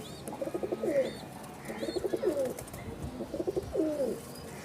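Purple-footed high-flying pigeons coo in a breeding setup, three distinct rolling coo phrases repeating at regular intervals, close and clear with no talking.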